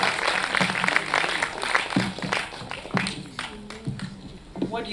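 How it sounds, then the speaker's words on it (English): Audience clapping at the 2025 National Head Girl Competition, a steady dense patter of many hands that rises and dips over the whole stretch, with a few sharper claps poking through. "Let's clap for her."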